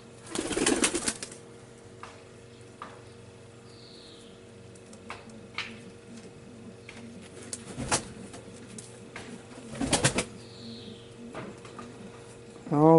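Domestic pigeons at their nest in a loft, carrying in nesting material, give soft cooing while sharp bursts of wing flapping break out now and then, close by and fairly loud.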